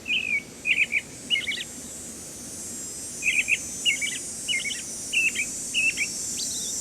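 Game-rendered American robin song from a Nancy Drew video game: a series of short, bright chirping phrases in two clusters separated by a pause, fairly clear over a steady low background hiss.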